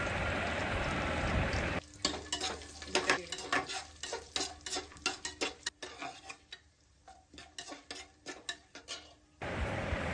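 Cashew nuts and cumin seeds fry in a pan for pongal, first a soft steady sizzle, then a spoon scrapes and stirs in rapid clicking strokes before the sizzle settles back.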